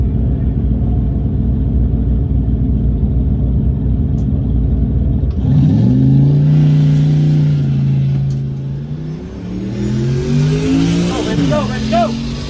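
A Tesla Plaid launches hard down a drag strip during Sick Week: a loud, steady drivetrain rumble breaks into a rising surge of acceleration that climbs and fades, with excited voices nearby.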